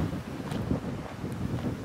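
Gusty wind buffets a microphone outdoors on the Continental Divide Trail near a highway road walk, a steady low rumble with swelling gusts throughout and no talking.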